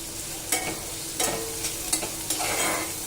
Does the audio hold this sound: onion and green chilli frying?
yes